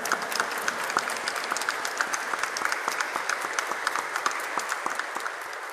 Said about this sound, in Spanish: les brindamos un fuerte aplauso y muchas gracias.